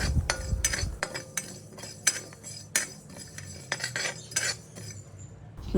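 Coriander and cumin seeds dry-roasting in a pan, stirred with a metal spatula: irregular close clinks and scrapes against the pan, with no talking.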